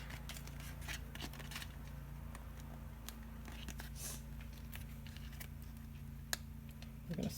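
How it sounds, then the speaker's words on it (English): Scissors trim excess paper away from the edge of vinyl plastic while a mini vinyl beach bag is being made, producing quiet, close, irregular snips against a soft background. "I'm going to snip off the sides, the excess paper, and go as close to the edge of the plastic as you can."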